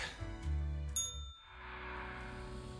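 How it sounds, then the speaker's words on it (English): Chiming phone notification in the Death and Taxes video game: a couple of bright ringing dings over a soft tonal backdrop, then fading into a quiet hum. "Our phone's buzzing with some notifications."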